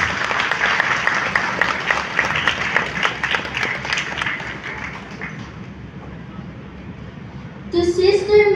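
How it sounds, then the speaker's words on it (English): Audience applause at a school recognition day ceremony, dense clapping that gradually thins and fades, followed by a voice starting to speak near the end. "Let's give him a round of applause."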